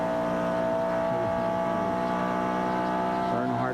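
NASCAR Cup cars race at Charlotte in 1997, engines droning in layered whines that rise and fall as cars pass, with a commentator talking over the steady roar.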